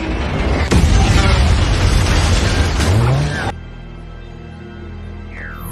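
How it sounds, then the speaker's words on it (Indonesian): A drone aircraft explodes in a loud booming blast with heavy low rumble and crackling debris, ending abruptly into quiet music-like tones. "pesawat meledak dan hancur"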